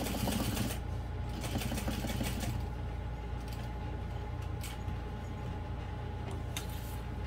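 Sewing machine stitching through vinyl and waterproof canvas at a long stitch length, a few forward stitches then a back stitch, heard as a steady close mechanical whirring chatter that runs continuously throughout.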